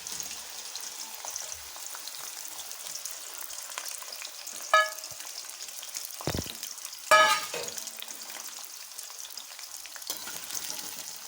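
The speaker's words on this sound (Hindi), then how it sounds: "अब हम अरवी को ऑयल में डाल देंगे।" Pieces of taro root (arvi) fry in hot oil with a constant crackling sizzle, broken by a few louder bursts as pieces are stirred or shifted, and a clunk of utensil against the pan.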